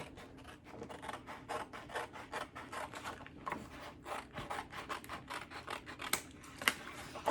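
Scissors snip through paper in a close, quiet, steady rhythm of rapid repeated cuts, each a short crisp rasping scrape, continuing for several seconds during a home decor craft, with no talk.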